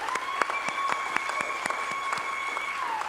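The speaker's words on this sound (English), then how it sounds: "let's just give St. Bart's a round of applause." A crowd claps through a round of applause at a Nuclear Prayer Day gathering, a dense steady patter of many hands with sustained tones ringing underneath throughout.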